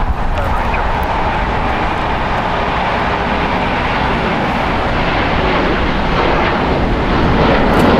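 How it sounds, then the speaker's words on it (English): A United Airlines Boeing 737-8 at LAX roars loudly and steadily with broad jet noise throughout, swelling slightly near the end, with no voices. "That is United Airlines Flight 1295 going to LIH. It's a Boeing 737-8, 6 years old."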